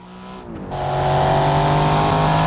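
A 1980s GT race car engine in the BeamNG driving game revs up hard and holds a loud, steady, aggressive drone, rising quickly after a brief quieter moment.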